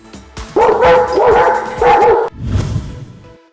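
A Fila Brasileiro dog barks loudly and close, a few deep heavy barks in quick succession followed by a lower growling bark, with no talk.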